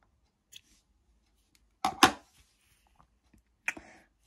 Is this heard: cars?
no